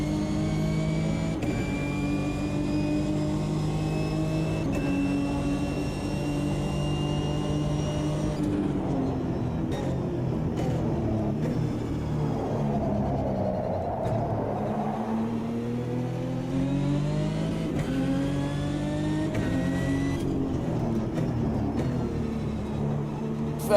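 A race car in Automobilista 2 braking late into a corner, engine pitch dropping through downshifts then climbing steadily as it accelerates away, sustained and loud with no talk.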